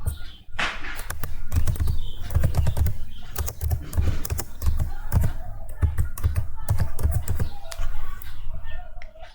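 Rapid, close keystrokes on a computer keyboard as a file name is typed, an uneven run of crisp clicks at moderate loudness, with nobody speaking.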